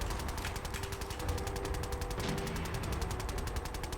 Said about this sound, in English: My boy's gun here is just going off